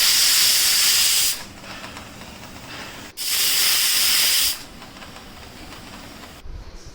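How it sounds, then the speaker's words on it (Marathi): A pressure cooker boiling raw mangoes lets out two loud bursts of hissing steam, each lasting over a second, with a quieter simmer between and after them. "आपण हे कुकरमध्ये याला 3 ते 2 शिट्ट्या काढून घेणार आहोत।"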